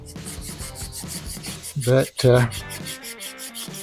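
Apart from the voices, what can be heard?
hand sanding a knife handle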